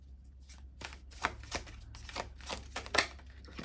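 A stiff deck of cards is shuffled by hand in a quiet room, giving a run of close, crisp riffling bursts and soft slaps with short pauses between them.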